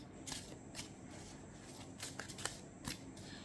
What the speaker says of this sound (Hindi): यहाँ पे मैं एक कार्ड लेती हूँ इनर चाइल्ड से